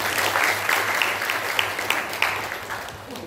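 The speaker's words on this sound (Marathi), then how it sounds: "छत्रपती शाहू महाराज, जरा जोरात टाळ्या मारून त्यांचा आपण" An audience at a Dhiwar community gathering in Bhandara claps loudly in honour of Chhatrapati Shahu Maharaj. The applause is sustained and fades gradually over about three seconds.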